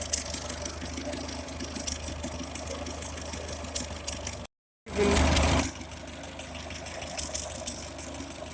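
A Ferguson tractor engine idles steadily at about 400 rpm with a low, rattling chug, broken by a brief silence and a short louder burst.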